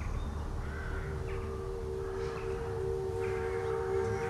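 Crows caw a few times at a moderate distance over a steady low rumble and a sustained tonal hum, with no talking.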